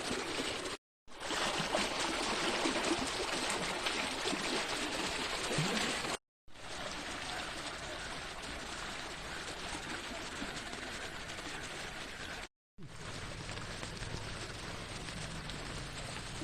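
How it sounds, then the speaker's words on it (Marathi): Heavy, steady rain roars without pause, a dense wash of noise with running water beneath it, broken by two brief silent gaps. "बघा पाऊस इकडे आपल्याकडे कसं पडलो जोरदार पाऊस पडलो"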